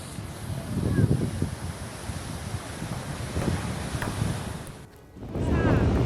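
Strong cyclone winds buffet the microphone over high, crashing ocean waves on the Barbados coast, a loud continuous roar with surging surf that dips briefly before rising again.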